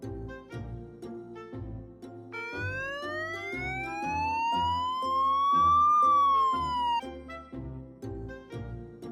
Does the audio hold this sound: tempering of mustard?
no